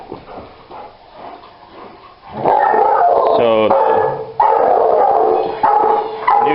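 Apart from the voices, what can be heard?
dog barking at a GoDogGo ball fetch machine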